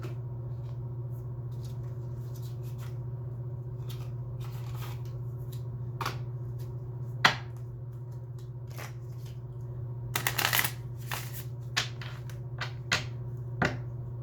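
Tarot cards are handled and shuffled in quiet, sparse bursts of soft riffling and snapping over a steady low hum, with a livelier flurry of shuffling toward the end.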